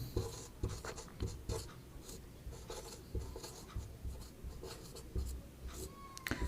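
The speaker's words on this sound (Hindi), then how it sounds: "तो चलिए शीर्ष बिंदु को भी लिख देता हूँ।" Chalk or marker strokes on a board during a geometry lesson on triangles, a series of distinct, rhythmic scraping marks with brief pauses between them, close and clear with no talking.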